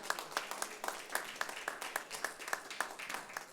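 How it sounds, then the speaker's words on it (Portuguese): Faint, rhythmic clapping from a church congregation during a sermon, steady regular beats in unison heard at a distance over soft room noise. "Será que podemos aplaudir o Senhor por ter chamado Paulo para isso?"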